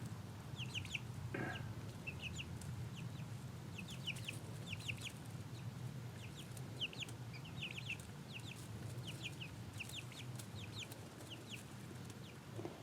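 Chicks and chickens in a coop, with soft clucks and high peeping calls repeating throughout at a moderate distance over a faint steady background hum.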